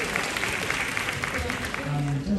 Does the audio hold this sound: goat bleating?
no